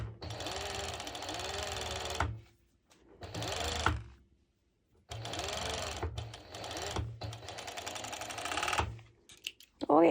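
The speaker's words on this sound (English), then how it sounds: "so I've serged my front piece" A serger sewing machine stitches along white fabric in a close, rapid, buzzing whir. It runs in three bursts of one to three seconds each, with short quiet gaps between them.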